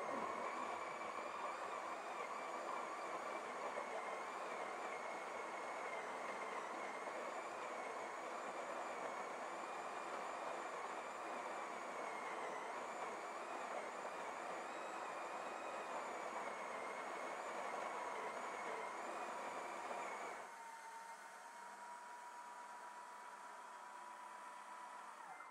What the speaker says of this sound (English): I'm gonna run the grinder while it's heating just so we can put a little more stress on the Delta Max.